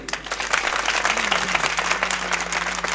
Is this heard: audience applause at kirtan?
yes